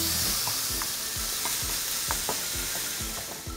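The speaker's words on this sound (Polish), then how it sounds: "Boczek smaży do momentu, kiedy pojawi się na dnie tłuszcz" Bacon sizzles and crackles in a pan while being stirred, a dense close hiss with regular soft scraping strokes and no voices.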